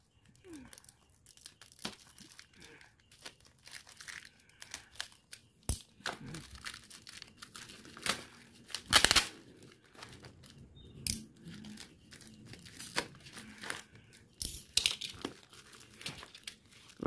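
Plastic packaging of a pen brush kit crinkles and tears in scattered bursts as it is opened, with occasional sharp rips and rustles at close range.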